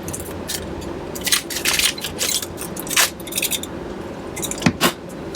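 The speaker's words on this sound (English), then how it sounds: "Let me go ahead and just cut this open real quick." A brand-new package of GI cleaning rods is cut open, close crinkly plastic rustling and scraping with irregular sharp crackles and a few clicks.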